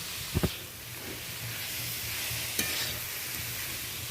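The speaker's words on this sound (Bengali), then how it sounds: "শাকটা নাড়াচাড়া করে একেবারে ভাজা ভাজা করে রেখেছিলাম দিয়ে দিলাম" Greens and onions fry in a pan for a Bengali susni saag dish, a steady close sizzle broken by a few sharp stirring knocks near the start and one more later.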